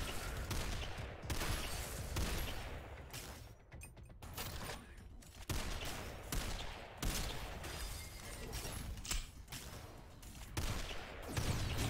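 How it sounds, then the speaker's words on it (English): Enemies fire guns in the video game SYNTHETIK, producing dense, loud bursts of gunfire that continue almost without pause, with brief lulls and clustered volleys of shots. "he was actively firing them at me at the moment"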